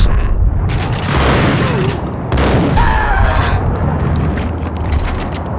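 Loud, dense video game gunfire with booming blasts and a roaring, explosive wash that fills the whole stretch, with brief voice sounds mixed in.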